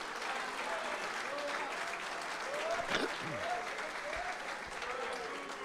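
A church congregation claps for the Lord during a sermon, a steady mass of applause throughout with a few faint voices and cheers rising within it.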